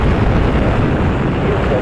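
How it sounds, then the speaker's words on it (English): Space Shuttle Endeavour on the STS-118 launch produces a deep, continuous, rumbling roar at liftoff, dense and steady with no break. "liftoff of Space Shuttle Endeavour, expanding the International Space Station while creating a classroom in space"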